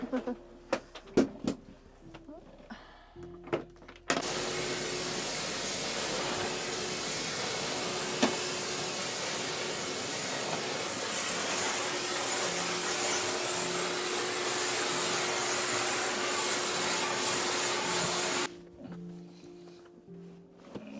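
Vacuum cleaner hoovering inside a new van, a steady loud broadband roar running continuously for about fourteen seconds after a few knocks and handling sounds, then switching off.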